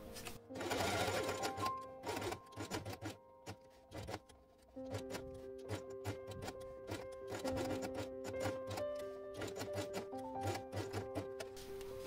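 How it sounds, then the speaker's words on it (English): Sewing machine stitching felt with blue thread, a rapid mechanical whirring in short and longer bursts with brief pauses between runs, close up and clear, no voices. "Put letter C on base page on marked place and sew it with blue thread."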